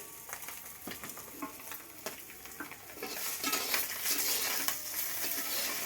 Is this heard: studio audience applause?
no